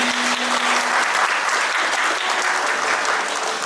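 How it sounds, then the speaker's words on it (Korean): Wedding guests applauding the bride and groom in a hall, loud sustained clapping from a large crowd, dense and steady throughout. "신랑, 신부, 인사. 박수 부탁드리겠습니다."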